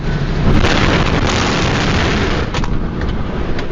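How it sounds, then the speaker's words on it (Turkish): A loud, broad roaring rumble of a grain silo explosion at TMO silos in Kocaeli during ship loading fills the air, with wind buffeting the microphone and scattered sharp cracks toward the end. "buğday silolarında gemilerin yükleme yaptığı anda patlama yaşandı"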